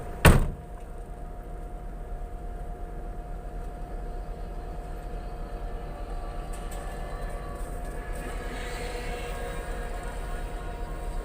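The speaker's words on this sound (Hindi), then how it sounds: "तो मैं दरवाज़ा थोड़ा सा खोल के आती हूँ" Car door unlatching and opening: a single sharp click right at the start, then a low, steady engine and cabin hum with a faint hiss near the end and no talking.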